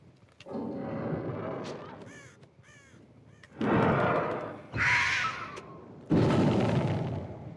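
Crows caw in the Dead by Daylight video game as the Artist's birds, harsh calls mixed with several heavy booming bursts of game sound, loud and close, with no speech.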